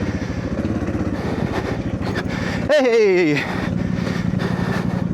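A Suzuki DR650 motorcycle engine thumps at a low idle, then revs up sharply and sweeps back down as the rider works the clutch. A voice shouts briefly over the close engine.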